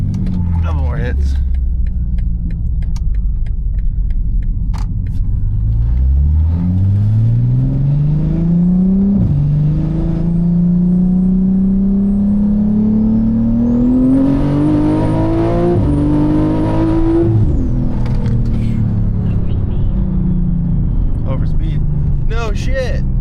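A BMW G80 M3 fitted with a big turbo revs hard and accelerates, its engine note climbing steadily through the gears with loud, close whine, then easing off; occupants talk over it.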